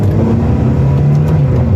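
A Ferrari 360 accelerates uphill, its engine a loud, close, steady mid-pitched drone with a rising tone and no voices over it.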